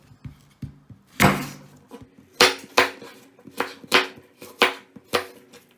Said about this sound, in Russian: Нарезать буду мелким кубиком.